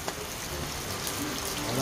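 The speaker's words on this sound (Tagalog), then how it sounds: "lakas ng ulan" Heavy rain falls steadily around a pigeon loft, a dense broadband hiss of downpour that fills the whole stretch, with a person's voice briefly audible over it.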